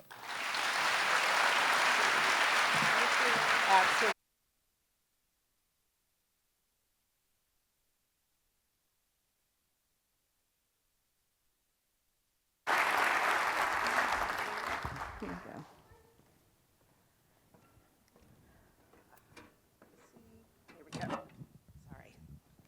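An audience at a community foundation's annual meeting bursts into applause as a guest speaker takes the stage. Loud, steady clapping breaks off abruptly into silence, then returns, fades, and gives way to scattered sounds and a voice.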